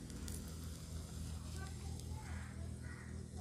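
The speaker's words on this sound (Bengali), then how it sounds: "ওই তেলে আমি ওই ফোড়ন দিচ্ছি শুকনো লঙ্কা," Dried red chillies sizzle in hot oil as they are tempered for a Bengali potoler dorma, giving a steady, close frying hiss with a low background hum under it and no talking.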